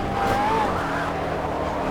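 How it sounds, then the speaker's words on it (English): A McLaren 12C GT3 race car in the Project Cars video game roars around the Nurburgring, its engine a steady, loud drone with a rising whine and a hint of tyre noise, heard alone. "This is the Mclaren 12C GT3."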